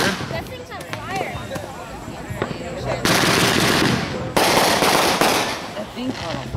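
Fireworks going off in a backyard display, with a stretch of dense, rapid crackling bursts that fire off loudly in close succession and sound like machine-gun fire, while people talk nearby before and between the barrages.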